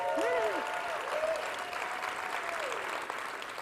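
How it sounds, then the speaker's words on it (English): An audience at a startup accelerator demo day gives a round of applause, steady moderate clapping with a few faint voices calling out over it. "everybody, you already did it, but let's give them a round of applause"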